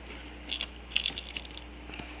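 Small metal carburetor needle dropped into place in a Super9 carb, a few light, close metallic clicks and taps, quiet and brief with no talking.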